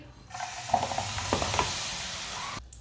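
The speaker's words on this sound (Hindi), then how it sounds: "गुड़ को ऐसे ही मेल्ट होने देंगे" Jaggery melts in hot oil in a pan while being stirred, a close, steady sizzle with a few scraping stirs that stops abruptly near the end.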